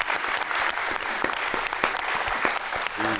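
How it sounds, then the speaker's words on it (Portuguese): Audience applause for a guest on a show, a dense, steady burst of many hands clapping close and loud for a few seconds, with a voice briefly heard near the end. "Uma salva de palmas para você"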